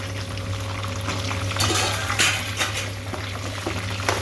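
Green chillies frying in oil in a kadai for chutney make a continuous close sizzle and bubbling, joined by a few brief clinks of a utensil against the pan, with no voices.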